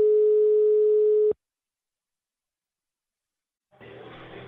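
A telephone line tone hums steadily for just over a second and then cuts off, and after a silent gap a rougher, noisier ringing or line sound starts up.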